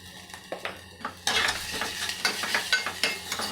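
Ginger, garlic, green chili and cumin paste hits a hot pan and starts sizzling loudly after a few quiet scrapes, then keeps crackling under repeated spoon strokes, with no voices.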